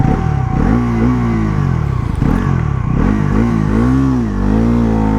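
A 2026 Bajaj Pulsar NS400Z motorcycle in sport mode fires up and revs hard, its engine pitch rising and falling through several loud, close throttle blips with a steady rumbling idle underneath.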